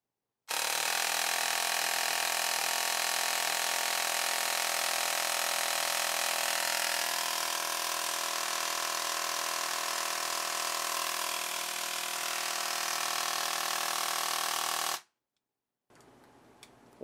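A CYMA Platinum airsoft AEG gearbox, frozen for a stress test and fitted with a Warhead motor, runs continuously for about fourteen seconds with a steady, loud whir. It then cuts off abruptly, leaving faint sounds after.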